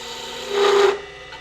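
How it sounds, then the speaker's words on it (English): A parting tool cuts into wood spinning on a lathe, one brief rasping scrape with a steady tonal whine lasting about half a second over the lathe's low hum. "Use a parting tool"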